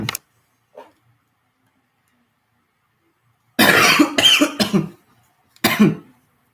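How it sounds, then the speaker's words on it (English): A man lets out a big cough, several harsh close bursts in quick succession followed by one more cough a moment later, with quiet ticks and silence before. "Sorry, just got a big cough there."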